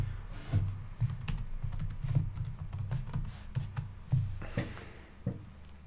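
Fingers type a gem install command on a computer keyboard in quick, uneven runs of close, crisp key clicks and thumps, with no talking.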